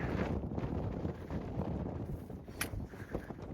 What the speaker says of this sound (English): Now it's very windy.